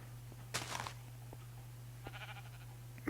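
Sheep bleating in a video game, a faint distant bleat heard twice over a steady low hum, with no talk.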